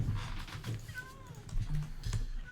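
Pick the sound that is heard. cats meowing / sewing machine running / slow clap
cats meowing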